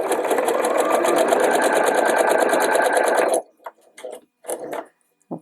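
Sewing machine sewing the underarm and side seam of a tailored shirt, a loud, close, rapid mechanical chatter that runs for about three seconds, then stops, followed by a few soft handling knocks.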